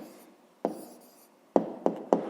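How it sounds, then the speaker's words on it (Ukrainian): A pen scratches and taps on paper while an answer is written for a fifth-grade maths exercise, a few short quiet strokes spaced apart, close and without talk. "Пишемо відповідь."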